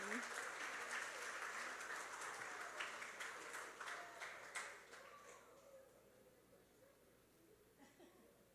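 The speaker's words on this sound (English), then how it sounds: "So let's have a round of applause for first group of graduates, ladies and gentlemen." Audience applause for graduates at a STEM camp graduation ceremony, a dense burst of clapping that fades gradually over several seconds, with a little laughter mixed in.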